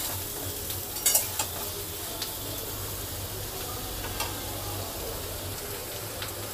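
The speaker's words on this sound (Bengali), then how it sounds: "এবারে ঝিঙেটা দিয়ে দিচ্ছি। আর একবার ভালো করে নেড়ে চেড়ে নিচ্ছি।" Ridge gourd stirred in a hot pan while cooking a fish-head shukto: a soft, steady sizzle under a low hum, broken by a few sharp utensil clicks and scrapes, with no talking.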